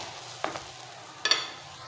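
Naan pakora frying in oil in a pan gives off a soft sizzle, with two brief brighter crackling bursts over the quiet bubbling.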